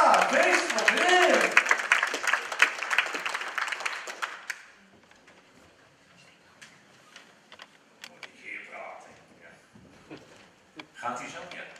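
An audience applauds the new Amersfoort city poet, Cees van Weerden: dense, loud clapping for about four seconds that then breaks off abruptly, followed by quiet room noise and a voice speaking.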